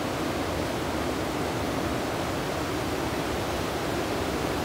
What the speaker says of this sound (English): I believe that's the Broad French River.